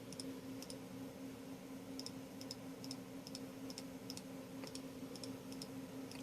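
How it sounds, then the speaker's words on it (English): Computer mouse clicks in a room with a running R9 290 graphics card, sharp, evenly spaced clicks in pairs, quiet over a steady fan hum. "this is how loud a mouse click is"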